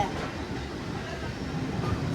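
A South Western Railway train runs at Alton, where the Mid Hants Railway meets the main line, a steady rolling rail rumble with light clatter. Voices talk over it.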